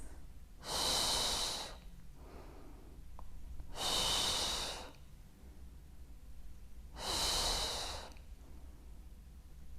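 Three deep, heavy breaths, drawn in and pushed out slowly at steady intervals, come from a pregnant woman during a prenatal wall pilates exercise. They are close and clear, with no talk.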